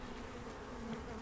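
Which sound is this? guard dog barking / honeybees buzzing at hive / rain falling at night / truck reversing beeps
honeybees buzzing at hive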